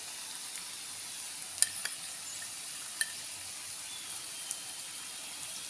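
Sliced onions with turmeric and ground black pepper frying in a pan for a pumpkin pepper curry, a faint steady sizzle with a few sharp little pops and ticks.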